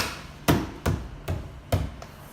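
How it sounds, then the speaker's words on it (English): Four firm thumps, roughly evenly spaced, as roof moulding on a first-generation Honda Insight is pushed down onto its tabs and sealer, close and fairly loud, with no talking. "we're going to push this molding on, and it's all going to go back on there into the tabs and into the sealer"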